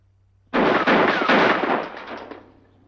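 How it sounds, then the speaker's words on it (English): A burst of gunfire at target practice, set in the 1948 western Oklahoma Badlands, comes as one loud, dense roar that starts abruptly, holds for about two seconds, then slowly fades, with no talking. "keep on firing until you hit"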